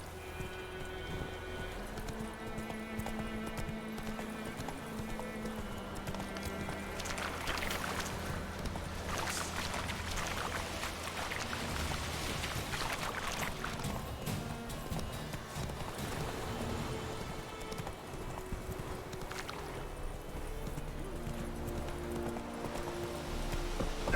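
Roach the horse gallops in The Witcher 3, repeated hoofbeats thudding in a steady rhythm over game music and ambient sound, continuing for a long stretch with little talk.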